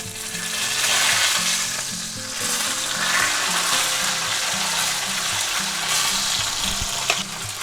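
A chuck roast sears in a hot pan with loud, dense sizzling and crackling that holds steady throughout, close up with a low burner hum beneath and no talking.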